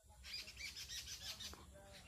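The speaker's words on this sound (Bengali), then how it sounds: "পাখিগুলাও ডাকছে কিচিমিচি করে" Small birds chirp and twitter in woodland beside a river near the India–Bangladesh border, a quick cluster of high, faint calls over a low outdoor ambience.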